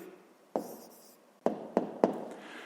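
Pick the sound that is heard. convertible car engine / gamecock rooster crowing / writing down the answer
writing down the answer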